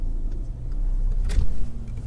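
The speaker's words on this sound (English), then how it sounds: "Look, this car's going." A car passes close by on a street of barber shops, a low engine rumble that swells briefly mid-way and then fades.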